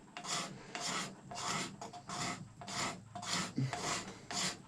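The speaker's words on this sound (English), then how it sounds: "That's the key to scraping. You don't want to carve these" A scraper draws repeatedly across a horn being shaped into a powder horn, giving about nine evenly spaced raspy strokes, close and fairly quiet, with no talking.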